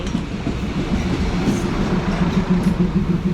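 A passenger train pulling into a railway station, steady rumbling clickety-clack of wheels over the rails with faint squeals, fairly loud and continuous, no voices over it.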